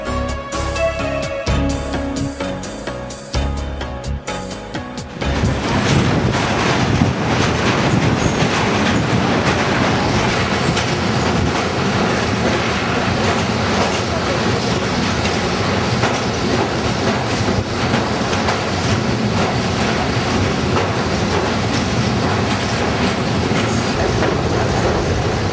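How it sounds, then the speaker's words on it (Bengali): The Amritsar Mail passenger train runs on the tracks, loud and close, with a steady clickety-clack rumble of wheels and rocking wagons that swells after a brief lighter opening. "অমৃতসর মেল আমাদের পৌঁছে দিয়েছে লাক্সারে।"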